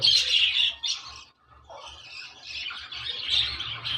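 Chicks chirping and squawking inside a breeding box, a dense run of high, close calls that dips briefly midway before resuming.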